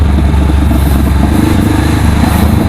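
Honda CBR500R sport motorcycle engine revving close by, a full, deep, continuous throaty roar that swells and holds steady without pause, loud throughout.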